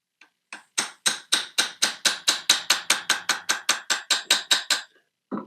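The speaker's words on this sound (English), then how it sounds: "we'll get the actual hammer here. The small hammer, which makes it easier." A rapid, even series of about twenty light metallic taps from a small hammer, close and crisp, then a short pause and one last tap.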